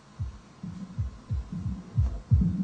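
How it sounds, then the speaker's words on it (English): Muffled, bass-heavy drum hits thump in a steady rhythm through a low-pass filter, dull and low as if heard through a wall, gradually growing a little louder and fuller. "if I unbypass that, you'll hear these drums sort of creeping in"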